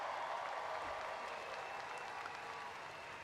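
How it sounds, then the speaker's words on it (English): Commencement audience of families and guests applauds the SUNY Erie class of 2024 graduates, a faint, distant, sustained patter of many hands clapping in a large hall, tapering slightly toward the end. "give a hearty round of applause for the class of 2024"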